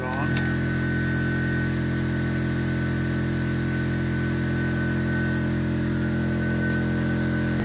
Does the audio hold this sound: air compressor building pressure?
yes